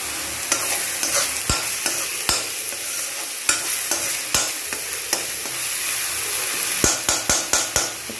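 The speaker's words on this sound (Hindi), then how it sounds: "तो ये प्याज मेरी अभी भून रही है" Onions frying in a home kitchen pan, a steady sizzle throughout with repeated sharp scraping knocks of a spatula stirring, clustered quickly near the end; no talking.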